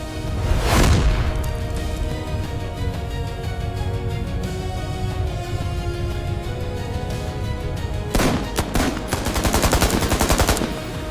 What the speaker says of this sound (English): I repeat, we're taking heavy fire